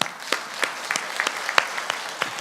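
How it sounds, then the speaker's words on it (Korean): A church congregation claps for missionaries honoured during a Korean sermon: a lively round of many hands with sharp individual claps popping out of a dense, continuous patter. "박수 한번 쳐드려요."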